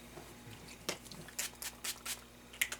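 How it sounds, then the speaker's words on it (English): Several quiet, short hissing spritzes from a spray bottle wetting a paint palette come in an uneven sequence against near silence. "palette here that I need to spray down with water."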